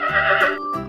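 A toy horse lets out a single recorded neigh, loud and close, a shaky whinny lasting under a second among other farm-animal toy sounds.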